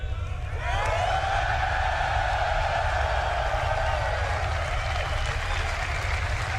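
A large convention audience erupts into loud, sustained cheering and applause that swells within the first second and holds as a dense, continuous roar throughout.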